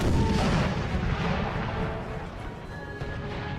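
Rifle volley fire from massed infantry in an American Civil War video game battle in a burning forest, a rolling crackle of many distant shots merging into a rumbling roar that slowly fades.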